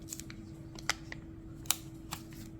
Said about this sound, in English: crinkling these bags open to smell them